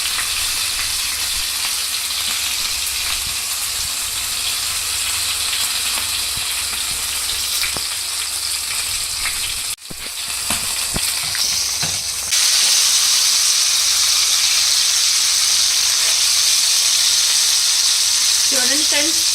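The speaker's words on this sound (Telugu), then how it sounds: "మీరు అటు ఇటు తిప్పుకుంటూ చక్కగా మంచిగా దీన్ని ఈ చికెన్ పీసెస్ని ఫ్రై చేసుకోవాలి" Chicken pieces fry in hot oil for Arabian chicken mandi biryani, a steady sizzling hiss with occasional stirring clatter, then the sizzle surges louder and brighter partway through.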